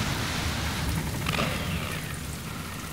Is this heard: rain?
yes